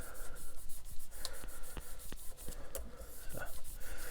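Guitar frets on a Vintage Icon Series V6 are rubbed with a 3000 grit micro mesh pad in steady back-and-forth strokes. The scratchy, rhythmic rubbing is close and moderately loud, with occasional light taps, and no voices.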